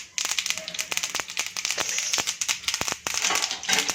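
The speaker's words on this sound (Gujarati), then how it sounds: "આપણી રાઈસ તતડી ગઈ છે" Mustard seeds popping and crackling in hot oil in a pan while cooking, a dense run of sharp close snaps and crinkling pops over a steady sizzle, with no talk.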